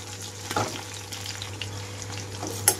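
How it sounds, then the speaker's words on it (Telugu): Red and green chillies fry in oil over low to medium flame, a soft, continuous sizzle with a few faint clinks and scrapes from a spoon, quiet and close. "లో టు మీడియం ఫ్లేమ్ అడ్జస్ట్ చేసుకుంటూ ఇవి కొద్దిగా వేయించుకోవాలి."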